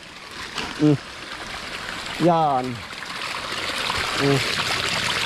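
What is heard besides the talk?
strong flowing water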